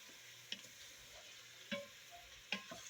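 Pork browning in a pan for a gumbo, a soft steady sizzle broken by three sharp scraping stirs spaced about a second apart, quiet and close with no talking.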